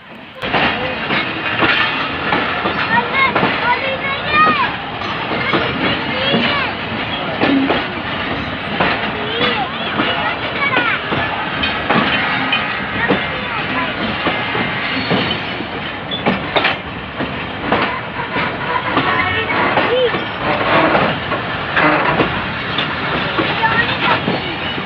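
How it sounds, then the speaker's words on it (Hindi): A Shaheen Passenger train runs steadily and loudly on the rail line near Wazirabad Junction, its wheels giving a constant clickety-clack, rumble and hiss that last the whole stretch with no break. Faint talk sits low beneath the noise. "शाहीन पैसेंजर ट्रेन है।"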